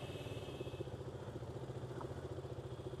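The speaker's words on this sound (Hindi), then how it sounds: "सो गाइस फाइनली बाइक करते हैं अपनी स्टार्ट।" A motorcycle engine chugs in a fast, regular low pulse, steady and fairly faint throughout, with no voices over it.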